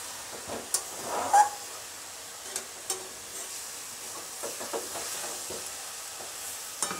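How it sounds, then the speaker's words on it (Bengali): Fenugreek greens and eggplant stir-fried in a pan give a soft, faint sizzle punctuated by scattered scraping and stirring knocks of the spatula. "শাক ভাজা শেষ হওয়ার আগে বেগুন দিয়ে নাড়াচাড়া করতে হবে এখন কিছুক্ষণ"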